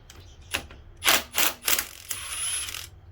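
Wrench working the 19mm axle nut on the rear wheel of a 2003 Kawasaki Concours, with a few close metallic clicks and ratcheting bursts followed by a longer steady mechanical scrape.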